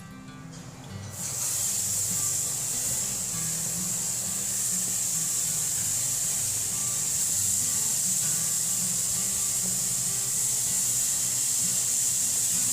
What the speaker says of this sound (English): we're going to let that sear for a minute